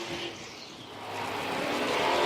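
Vintage modified race cars of the Southern and Florida Ground Pounders series race on the track at Dillon, South Carolina, their engines roaring and building louder as they pass near.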